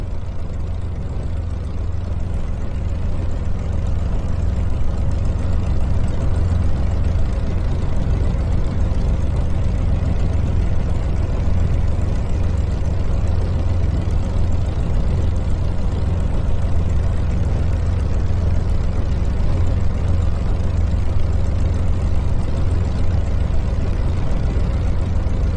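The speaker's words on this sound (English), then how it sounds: "You hear both engines." A steady, loud, unbroken engine drone from Spitfire aircraft engines in Microsoft Flight Simulator VR during a group flight, heavy and low, running without a break for nearly half a minute.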